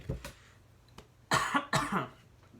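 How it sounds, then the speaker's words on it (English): Two harsh coughs close together, loud and near, following a soft throat sound, with quiet room between. "hold on, let me cough"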